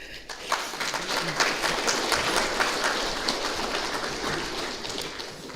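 Sustained applause from mourners at a funeral service, a dense, steady wash of many hands clapping together at fairly close range, holding an even level throughout with no voices standing out.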